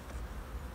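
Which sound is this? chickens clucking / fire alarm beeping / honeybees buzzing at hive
honeybees buzzing at hive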